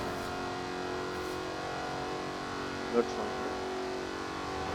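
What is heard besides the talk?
Jaguar Project 7 car engine revving in Forza Horizon 4 video game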